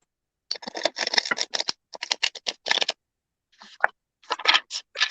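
Oracle cards from a Vintage Oracle deck being shuffled hard: bursts of quick papery riffling and flicking, several in a row with brief pauses between, close and fairly loud, with no talk over them.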